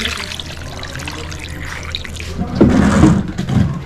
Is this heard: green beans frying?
no